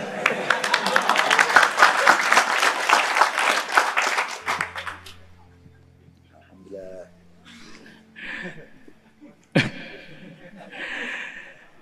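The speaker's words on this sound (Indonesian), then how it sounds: "Terima kasih yang udah memberi tepukan." Audience at an Islamic religious lecture (pengajian) bursts into applause for about five seconds, dense and loud, then fades into quiet murmurs, scattered laughter and brief talk.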